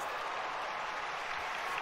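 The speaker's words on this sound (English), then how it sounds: "Don't clap for that. What y'all clapping for?" A crowd claps at a football match, a brief, dense wash of hands in steady applause heard from a distance, fairly quiet and uniform for under two seconds with no voices on top.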